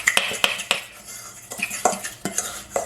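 A utensil clinks and scrapes against a dish while grated Parmesan and parsley are mixed for veal cutlets, giving sharp, irregular taps and stirring strokes close by, with no voices.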